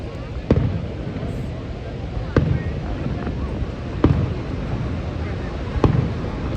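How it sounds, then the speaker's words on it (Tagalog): Fireworks burst over Niagara Falls in a weekly Sunday-night display, with loud booms recurring about every second and a half over a constant background rumble of crowd and water. "This is fireworks from Niagara Falls, guys."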